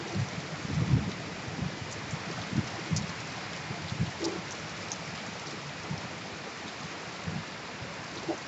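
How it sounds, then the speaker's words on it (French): Heavy rain pours during a storm in Martinique, a dense continuous roar with occasional louder low gusts and splashes, heard close and without talk. "ça pleut, il pleut"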